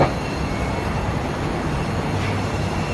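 Steady rumble of an electric train in motion on Bangkok's Skytrain line, heard from inside the carriage, with continuous low track and motor noise and no voices.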